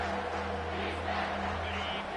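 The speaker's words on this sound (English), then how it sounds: "Decibels rising as the crowd gets behind this defense on 3rd down." A stadium crowd at a college football game roars steadily on third down, a dense, continuous wall of cheering and yelling that holds its level throughout, with a faint low hum underneath.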